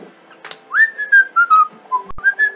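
A Dungeon Rushers game character whistles a wavering, tuneful melody in a series of short phrases, clear and close, with a couple of sharp clicks partway through and no talking.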